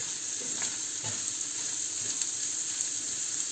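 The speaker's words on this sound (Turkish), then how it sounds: "biberim, soğanım, kıymam güzelce kavruldu" Minced meat frying with peppers and onions in a pan, a steady close sizzle with faint stirring scrapes throughout.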